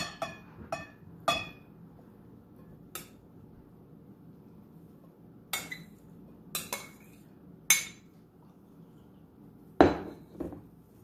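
A spoon clinks and scrapes in a bowl while a salad of tomato, onion, ginger and jackfruit is mixed, with sharp, sporadic knocks separated by quiet pauses, close and otherwise still.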